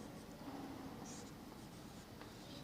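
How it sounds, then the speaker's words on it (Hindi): Chalk or pen scratching steadily in short strokes on a classroom board during a Class 10 physics lesson on the human eye, close and moderately loud with no talking. "चलो यहां लिख लेते हैं"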